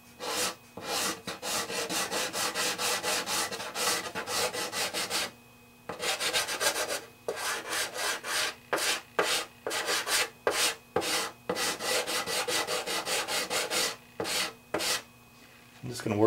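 A hand scraper working glue off guitar purfling gives a series of dry, raspy scraping strokes, close and fairly loud, in rhythmic bursts with short pauses between them.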